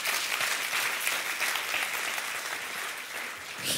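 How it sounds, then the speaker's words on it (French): A church congregation applauds, a continuous wash of many hands clapping together at moderate volume, holding steady for several seconds. "Et par applaudissement qui désirent ça."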